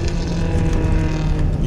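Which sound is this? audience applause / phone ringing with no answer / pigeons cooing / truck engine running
truck engine running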